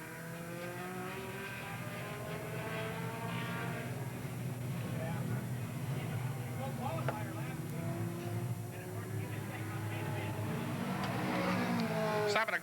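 Race cars run at Willamette Speedway, a distant, sustained engine drone with shifting pitch that rises near the end, while a race announcer talks over it.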